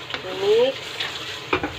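Pasta is stirred with cooking cream in a hot pan, giving soft scraping strokes over a faint steady sizzle, close and quiet, with no talking.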